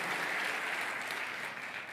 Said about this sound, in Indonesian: Yang mau kasih tepuk tangan bagi Tuhan kita.